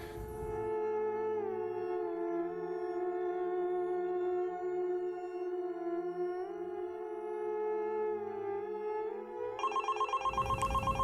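A mobile phone rings with an electronic ringtone, a steady repeating melodic tone, loud and close, with no voices for about eleven seconds, shifting to a brighter pattern near the end.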